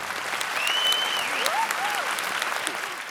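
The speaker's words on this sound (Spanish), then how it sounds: "yo un aplauso para los abuelos y abuelas de Sí. España." Applause for grandparents comes through as a continuous wash of crowd clapping, steady and moderately loud, with a few thin whistle-like tones gliding over it.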